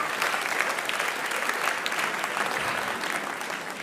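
An audience gives a round of applause, with steady, even clapping from a crowd that holds for about four seconds at moderate volume.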